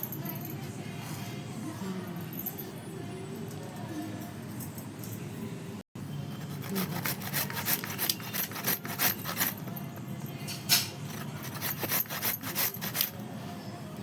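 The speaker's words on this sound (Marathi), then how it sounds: "चला आता आपण अशा सर्व गाजरं किसून घेऊया" Carrots being grated by hand for carrot halwa, a steady rasping, scraping rhythm close up that runs on with only a brief break partway through.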